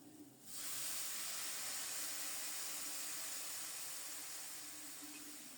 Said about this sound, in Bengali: এখন দিয়ে দেব ফোটানো গরম জল।